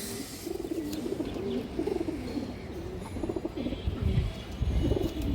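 Pigeons of an old breed coo close by in a loft, repeated soft throaty rolls in a steady rhythm, with occasional light rustling and no voices.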